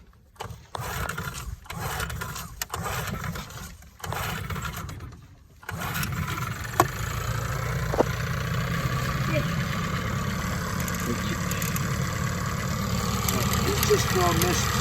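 A 1976 Evinrude 15 hp outboard motor sputters through a few rough attempts, then settles into a steady, fairly loud mid-pitched running drone that builds slightly toward the end, with a voice over it early on.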